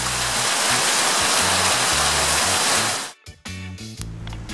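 Heavy tropical rain pours down during a bicycle trip in Malaysia, a loud dense steady roar that drops abruptly near the end, leaving quieter patter and rumbling low background.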